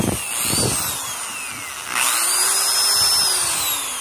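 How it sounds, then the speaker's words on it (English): A DeWalt power drill powered from a golf cart's AC outlet whines briefly, stops, then spins up again and runs steadily, loud and close. "And I plugged in a good old DeWalt drill"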